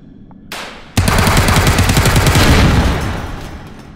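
A burst of rapid automatic fire from an MP5K submachine gun in the H3VR virtual reality game, loud and close, running continuously for about two seconds after a brief handling click, then fading out.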